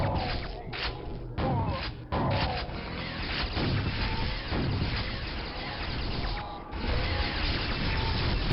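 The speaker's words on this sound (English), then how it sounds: "Trying to kill these bobs with the grenade launcher is a difficult task." Grenade launcher firing in the first-person shooter Quake, during single-player combat against monsters: repeated heavy thumps and booms with clattering mechanical noise, dense and continuous with brief gaps.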